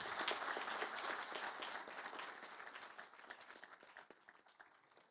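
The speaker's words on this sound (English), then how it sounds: "I would like to again ask for a big applause for our specialists." A conference audience applauds the specialists with dense, sustained clapping, loud at first and gradually thinning and fading toward the end, with no talk over it.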